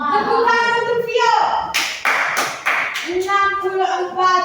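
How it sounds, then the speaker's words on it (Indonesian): A fifth-grade primary school class claps together in a classroom, a burst of rhythmic applause of about a second and a half, framed by children's voices chanting loudly before and after. "Tepuk tangan untuk Vio."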